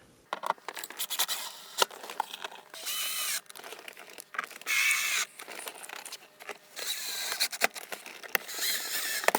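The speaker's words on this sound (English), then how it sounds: "Now we'll just go ahead and replace the screws that hold this cover on." Screws are driven back into a plastic trim cover inside a GM truck, with bursts of scratchy ratcheting and rubbing alternating with short pauses and occasional clicks, close and fairly quiet.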